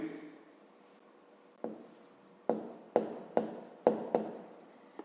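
Pen strokes on paper while writing out a math solution, a series of sharp, close taps and short scratches in irregular bursts after a quiet start.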